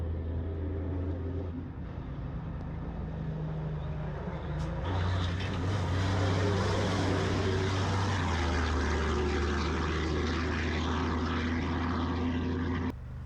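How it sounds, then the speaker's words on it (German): A rally race truck's heavy engine drones steadily, then roars louder as it approaches the finish at Ksar Ghilane, a deep sustained rumble with a higher whine above it. "Gleich kommt der erste Racetruck ins Ziel und hört mal auf den Motorsound"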